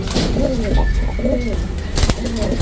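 Young racing pigeons of a new off-color batch coo in soft, repeated bursts at close range over a steady background hum, with several overlapping calls through the whole stretch.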